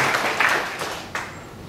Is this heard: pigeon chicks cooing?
no